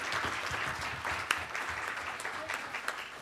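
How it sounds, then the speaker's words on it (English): An audience claps steadily after a science and technology institute final presentation, making a continuous, fairly faint patter of many hands heard from a distance. "Now let's give him a round of applause."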